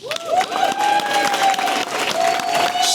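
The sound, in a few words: audience applause for Corrine Ramirez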